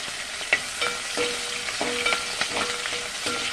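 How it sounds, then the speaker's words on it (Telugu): Finely chopped green chilies fry in oil for bottle gourd curry, a steady close sizzle with little crackles and intermittent scraping of a spoon stirring in the pan. "సన్నగా తరిగి పెట్టుకుని పచ్చిమిర్చి వేసుకున్నాను ఇది వేగాలి"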